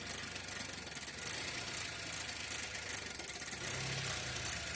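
A Honda car engine idles roughly with a rattling, uneven rhythm, its note sagging and shifting close to stalling during exhaust camshaft timing diagnosis.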